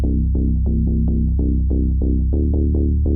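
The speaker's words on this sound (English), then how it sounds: "And this is where the real donk comes from." A Serum synth donk patch from a UK garage preset pack plays a steady run of short, bouncy, hollow-toned notes, about ten punchy plucks in a loping rhythm over a constant low hum, loud and up front with no voices.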